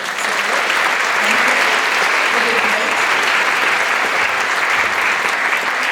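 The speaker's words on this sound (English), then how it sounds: "So just give everybody one more round of applause for that." An audience at a high school fall choir concert applauds loudly and steadily, a dense wash of clapping that holds at full strength the whole time.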